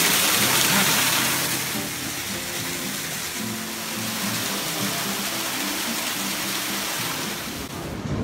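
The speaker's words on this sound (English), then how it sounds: "Yeah, it is raining real hard here." Heavy rain pouring in Shinjuku Garden, a dense, even hiss of water with a low rumbling undertone, fading slightly after the first second and otherwise constant, without clear speech.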